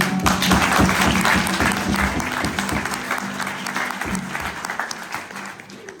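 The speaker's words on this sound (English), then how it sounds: "please a big round of applause for your wonderful Te Puia hosts this evening, Merania and all of her team." Enthusiastic applause from an audience thanking the hosts of a Māori cultural show at Te Puia, New Zealand, with dense close clapping that starts strong and gradually eases while a crowd murmurs underneath.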